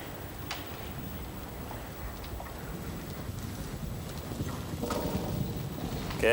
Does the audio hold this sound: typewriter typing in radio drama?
no